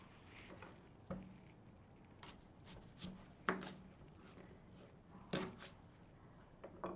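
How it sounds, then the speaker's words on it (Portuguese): Knife cutting onions into halves or quarters for tomato soup, a handful of separate soft thuds and scrapes on a board, spaced irregularly and faint against a quiet kitchen. "Vamos cortar cada cebola em 2 ou 4, depende no tamanho."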